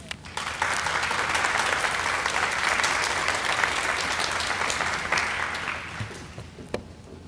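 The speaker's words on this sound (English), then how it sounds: "Please give Mr. Boykin a round of applause as he comes to the podium." Sustained applause at a summer 2025 high school graduation ceremony as the speaker walks to the podium, a dense, steady wash of clapping from a large audience that holds for several seconds and then tapers off.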